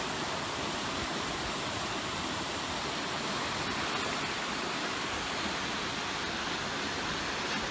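Steady broadband rush of river water flowing over rocks on the Chattahoochee River, continuous and close with no break, alone without voices.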